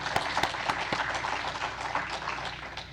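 A congregation in a church service claps loudly and continuously, with a few sharp individual claps standing out from the dense, close applause.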